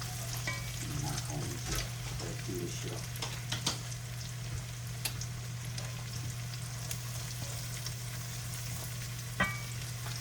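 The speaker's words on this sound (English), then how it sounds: "Scramble, scramble, scramble. Get my eggs going" Eggs are scrambled in a hot pan for fried rice, with a steady close sizzle of frying under occasional scraping stirs of a utensil.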